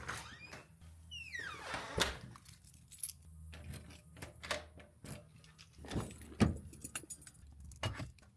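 Keys jangling in hand, a series of bright metallic jingles and clinks scattered irregularly across several seconds, close by, with faint car and door sounds around them.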